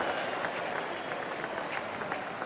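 A cricket crowd at a 1974-75 Ashes Test in Sydney applauds a batting stroke, a dense, steady wash of distant clapping spreading across the ground.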